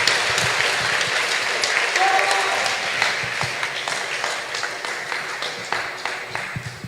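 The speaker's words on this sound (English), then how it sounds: "Give a round of applause for our unit." Audience applause at a torch lighting ceremony, a broad sustained wash of many hands clapping that gradually thins toward the end, with a few voices mixed in.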